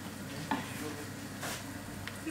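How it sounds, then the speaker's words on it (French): A spoon stirs lentil curry in a pan in a home kitchen, giving soft scraping strokes over a faint, steady sizzle, with a few brief clinks spaced through the quiet stir. "Je vais mélanger, saler, poivrer."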